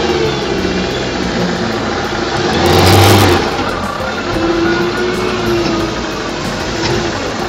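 A car engine is given more throttle, revving steadily and loud nearby, swelling to a brief peak in the middle before settling back to a steady drone.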